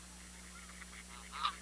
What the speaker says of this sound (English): And with the help of my good wife, Mary Kay, we still look after a flock of geese.